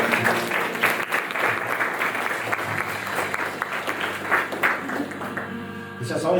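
A congregation at a worship service applauds steadily, dense continuous clapping at fairly close range with voices and a sustained musical tone underneath, fading toward the end.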